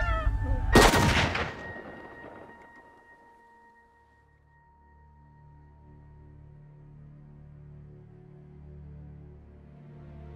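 One loud gunshot in a film, a sharp close blast followed by a fading tail and then a quiet low background.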